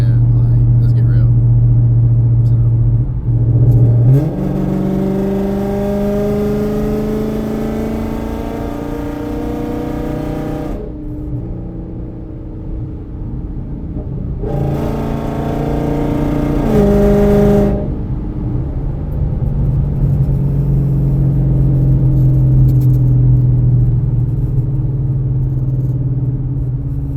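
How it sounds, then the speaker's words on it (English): Revving of an FBO S650 car through its makeshift exhaust setup, a loud close engine roar that climbs in pitch in two long rev bursts with idle rumble between, and a voice partly over it. "The crazy thing about this little exhaust setup,"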